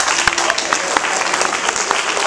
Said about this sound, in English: you guys have to applaud loud so it comes up on the stage